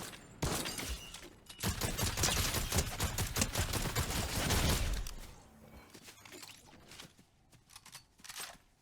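Gunfire in the video game Fortnite comes in dense, loud bursts of rapid automatic shots for several seconds, then thins to sparser, scattered shots, with no talking over it.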